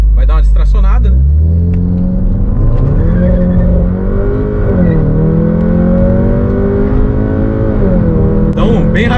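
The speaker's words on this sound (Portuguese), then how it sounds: "vamos aqui pro testezinho de 0 a 100" A modified Volkswagen Fusca TSI with over 300 wheel horsepower and a Magnaflow exhaust revs up and accelerates hard in a 0 to 100 test, pitch climbing through gear changes, loud and close, with a person talking over it.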